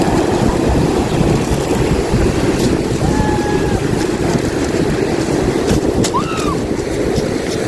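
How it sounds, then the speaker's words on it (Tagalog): Large ocean waves break and wash onto Sulok Beach in General Nakar, Quezon, a steady loud roar with wind buffeting the microphone and a few faint high chirps over the surf. "Delikado. Malalaking alon."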